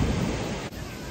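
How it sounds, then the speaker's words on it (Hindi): Broad roar of wind gusting and sea waves washing in at Durdle Door beach, loud and close against the microphone with a brief dip partway through, with no talking. "हवा चल रही है और समुंदर का जो पानी आता है पूरा ऊपर तक आ रहा है"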